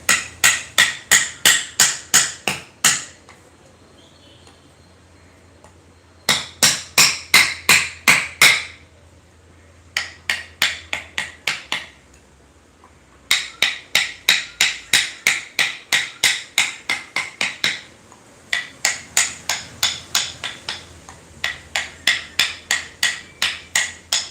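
A mallet drives a chisel into wood while a sofa parrot design is carved, giving bursts of sharp, rapid, evenly spaced knocks separated by short pauses, loud and close with no talk.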